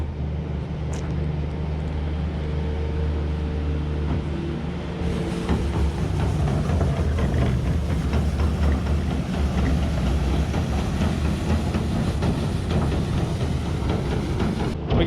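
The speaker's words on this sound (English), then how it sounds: "Now Dad's going around with the giant dustpan and brush on the skid loader." Skid loader engine runs steadily while it sweeps a bunker silo, a continuous low mechanical rumble with rattling and scraping that grows louder partway through and stays dense to the end, with no talk.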